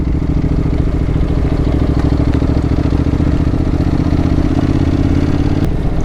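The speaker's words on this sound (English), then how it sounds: "I just realised I took off in second gear then." A Honda NC750X motorcycle pulls away in second gear, its engine a loud, steady close drone with a low rumbling throb throughout and no talking.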